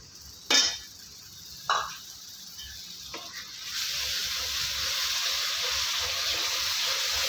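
Ground tomato added to a pan of ginger and garlic in oil for a Madurai pepper chicken gravy, hitting with two or three sharp splashes before settling into a steady, moderate sizzle of sautéing.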